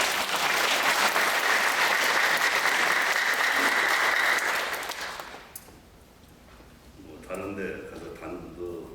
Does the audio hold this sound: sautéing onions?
no